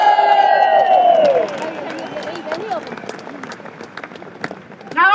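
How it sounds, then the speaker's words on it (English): Loud crowd cheering and applause at a farmers' rally against the UK inheritance tax reform, greeting Kemi Badenoch; a sustained roar with a speaking voice over it at the start, dipping slightly before swelling again at the end. "Big cheer for Kemi Badenoch."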